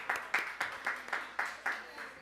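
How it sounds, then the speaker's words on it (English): Applause for a comedian's introduction on a live show, heard as quiet, rhythmic bursts of clapping recurring about every quarter second, faint and thin like a small group. "I'm going to give him a big round of applause"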